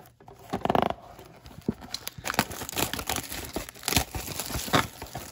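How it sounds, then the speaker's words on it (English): A 2022 Marvel Fleer Ultra Avengers trading card blaster box and its packs are torn open up close, with crinkling wrapper, rustling and sharp tearing bursts and handling taps spread across the clip. "And let's get ripping on this second box."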